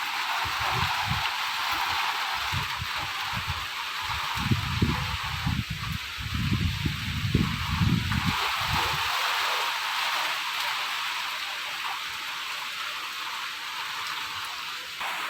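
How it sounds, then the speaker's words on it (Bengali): Heavy rain pours steadily with gusting wind in a loud, continuous broadband wash, with bursts of low rumbling gusts in the first half that ease off later while the downpour keeps going. "ঝমাঝম এখন বৃষ্টি শুরু হয়েছে, তার সঙ্গে হাওয়া শুরু হয়েছে"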